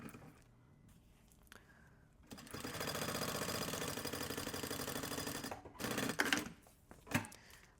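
A sewing machine stitching a 7 mm seam on the lining of an insulated thermos bottle holder, running in one steady whirring burst for a few seconds, then a few short stops and starts, quiet and close.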